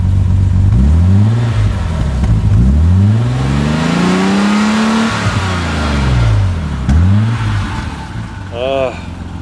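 An inline-six engine in the first BMW M6 rises and falls through several throttle blips, each one climbing in pitch and dropping back. The revs are loud and close, followed by a short high tonal chirp near the end.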